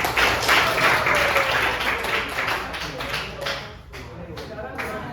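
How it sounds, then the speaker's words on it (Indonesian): Classroom applause from ninth-grade students after a music performance, a dense patter of clapping with voices talking over it throughout. "Kasih tepuk tangan dulu."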